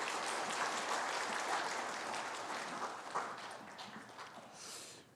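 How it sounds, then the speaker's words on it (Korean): A Sunday morning church congregation claps in welcome for a missionary, a steady wash of applause from a large room that slowly thins and fades toward the end. "오늘 말씀에 은혜 받겠습니다 하는 뜻으로 박수로 환영하겠습니다."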